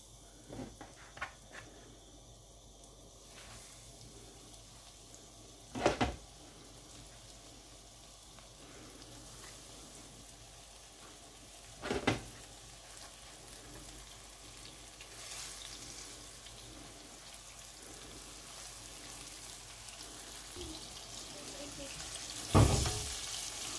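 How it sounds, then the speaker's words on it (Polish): Stuffed chicken breast fries in a pan, seared on both sides, giving a quiet, steady sizzle with a few sharp clinks or taps scattered through it. "Obsmażamy z obydwu stron."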